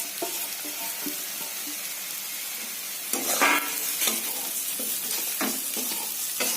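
Half-fried flattened rice for masala chira is stirred in a hot pan, with a continuous loud sizzle and scraping stir strokes that grow busier and louder partway through.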